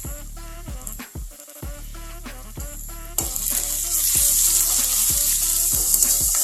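Ginger garlic paste fries in hot oil for a tamarind-leaf curry, a close sizzle that swells into a loud, bright hiss halfway through, over a rhythmic backing with steady pulses.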